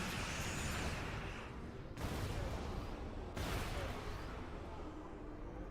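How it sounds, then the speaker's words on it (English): Explosions rock a starship in the space combat game Star Trek Online, a dense, continuous roar of blasts and booming fire that stays loud throughout, with two abrupt cuts where the barrage briefly shifts. "I just saw explosions rocking your ship."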